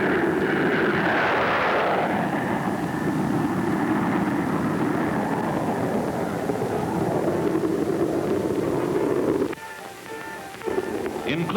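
A Bell P-59 Airacomet jet engine roars loudly and steadily at a Navy experimental flight test base, with a shifting whine, then a sudden drop near the end before the sound resumes.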